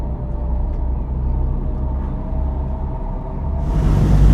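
A boat's engine rumbles low and steady close by near Amalfi, then swells louder toward the end with a rush of churning water as it pulls away.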